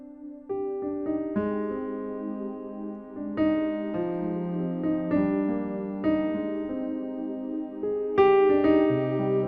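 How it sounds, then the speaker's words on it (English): A Casio PX-S3000 digital piano layered with a warm pad plays slow sustained chords, each struck note swelling into a soft lingering wash, close and clear with no talking. "let's layer the piano with some pads"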